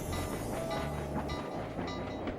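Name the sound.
train passing in video game Sly 2: Band of Thieves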